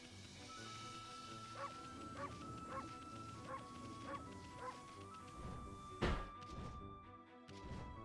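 Amaterasu, the wolf in the game Okami, giving a rapid series of six or seven short, soft barks in a steady rhythm, followed by a sharp thump.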